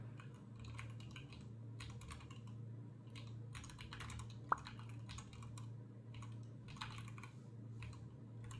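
Keys clatter on a computer keyboard in steady, uneven bursts of typing, close and fairly quiet over a constant low hum, with one sharper click partway through.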